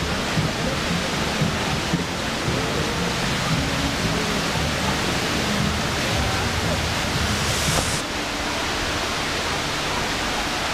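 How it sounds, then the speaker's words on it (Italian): A waterfall in Dubai gives a steady, dense wash of falling water that roars on without a break, then eases slightly near the end. "Una cascata molto particolare."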